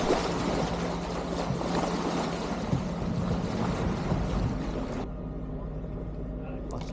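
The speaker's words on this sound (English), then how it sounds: "we have to rely on the engine for support throughout the journey." A sailboat motors under engine power on a calm, low-wind passage through Strangford Narrows, with a steady broadband engine and water rush that drops off abruptly near the end.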